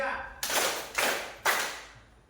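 Three separate loud hand claps land at an even, deliberate pace in a counted classroom concentration exercise, each one sharp and close with a ringing decay that fades into the room before the next.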